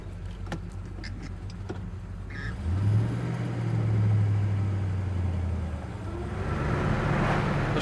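A 1967 Pontiac GTO pulls away from idle and drives off, its engine a steady low rumble that swells as it gets under way, with road and wind noise rising near the end.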